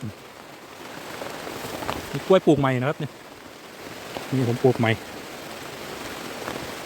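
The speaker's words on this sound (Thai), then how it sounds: "ฝนตกแรง" Heavy rain pours steadily over a banana garden, a constant close hiss throughout while someone talks briefly in two short stretches.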